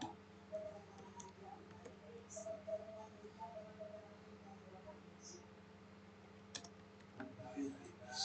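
Keystrokes tap out on a computer keyboard during Debian 13 network configuration, a few light scattered clicks over a steady low hum with faint talk in the room.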